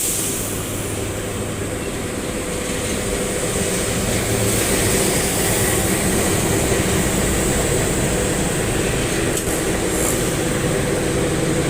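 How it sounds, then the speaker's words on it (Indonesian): A Pandalungan passenger train at Bangil station gives a steady, loud rumble of rolling rail cars, with continuous broadband wheel and track noise and a faint high whine, no voices. "kereta api Pandalungan di stasiun Bangil ini bertemu dengan 2 kereta api"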